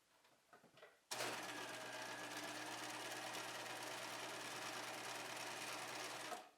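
A sewing machine stitches down the folded top edge of a pocket on a bag: a loud, steady mechanical whir runs unbroken for about five seconds after some brief quiet handling noise.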